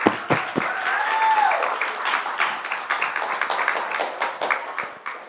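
An audience applauds at a Spanish-language program about living with multiple sclerosis, a dense, steady clapping that fills the clip and tapers slightly toward the end, with no one talking over it.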